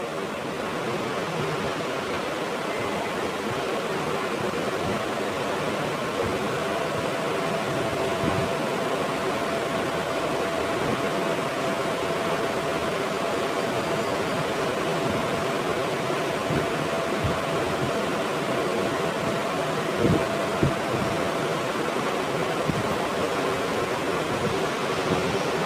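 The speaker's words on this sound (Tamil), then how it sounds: "இப்போ அது வேகிற அளவுக்கு நம்ம தண்ணி விட்டுக்கலாம்." Steady, continuous rush of water pouring into a pot, a broad even hiss lasting throughout with faint occasional clinks.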